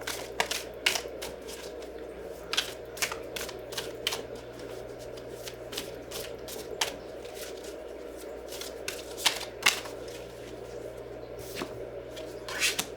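Tarot cards being shuffled close by in quick, irregular riffles and soft slaps, a dry papery clatter that continues throughout at moderate volume with no talk.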